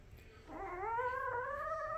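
A single drawn-out whimper from a young puppy, a thin rising then level whine lasting over a second, close and fairly quiet against low background noise.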